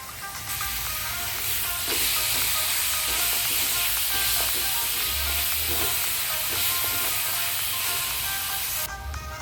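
Ground masala sautéing with shallots in a pan for beef perattu, a steady loud hiss of frying with soft scraping stirs throughout, close up and without voices.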